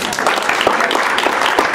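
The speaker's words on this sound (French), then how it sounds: "On va les applaudir" Brief burst of audience applause at a youth municipal council election ceremony in a French town hall, dense clapping from parents, grandparents and children filling the short moment.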